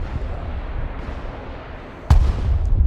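Rocket fire in the military strategy video game Broken Arrow: a steady low battle rumble, then one sudden loud close blast that booms and lingers as a heavy roar to the end.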